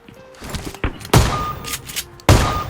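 Gunfire in PUBG Mobile: several sharp, loud shots crack out in separate bursts, with a couple of softer thuds between them and game noises in the background.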